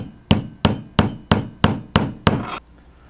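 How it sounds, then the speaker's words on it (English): A hammer drives a nail into wood while building a paper plane launcher, six sharp, evenly spaced strikes roughly a third of a second apart, loud and close with no talk. "you're just going to hammer it into the wood like this"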